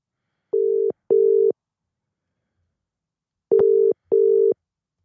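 A telephone call-back tone on the line plays two double-burst tone pairs about three seconds apart, steady and clear, with silence between and no talking.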